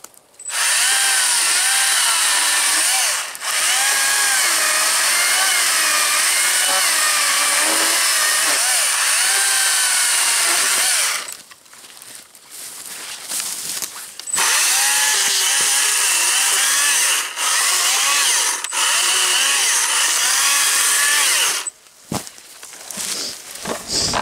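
A STIHL MSA 120 C-B battery chainsaw cuts wood with a loud, high, steady whine in long stretches, broken by short pauses and quieter moments between cuts.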